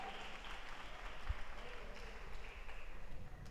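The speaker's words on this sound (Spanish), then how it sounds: "démosle un fuerte aplauso al Rey de Reyes" Church congregation applauding together in a sustained, steady burst of clapping that fills the room at moderate volume from start to end, with no speech over it.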